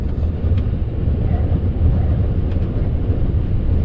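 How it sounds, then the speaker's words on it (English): Strong wind blowing outdoors on a gusty day, a steady low roaring rumble buffeting the microphone throughout with no pauses. "I can't believe it's still so windy."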